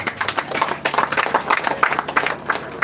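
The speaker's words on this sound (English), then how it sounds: "Please help me give them a round of applause." Applause at a community project commissioning, a steady wash of many hands clapping together throughout, fairly loud and close.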